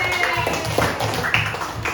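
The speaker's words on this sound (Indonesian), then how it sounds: "beri tepuk tangan untuk teman-teman kalian yang sudah berani maju ke depan" Schoolchildren in a classroom clap for classmates who came to the front, quick uneven claps and taps close by, with voices talking over them.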